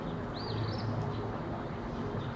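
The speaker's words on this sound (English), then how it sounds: "Birds outside." Birds chirping outside a room, a few brief faint calls over a steady low background hum.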